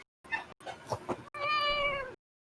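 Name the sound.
cat meowing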